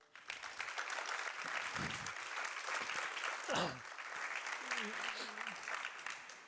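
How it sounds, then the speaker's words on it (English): A big round of applause fills an arena at an evening talk on entrepreneurial mindset, sustained crowd clapping that swells quickly and holds steady, with a brief murmur of voices and a whistle-like tone partway through. "Go ahead, welcome, a big applause."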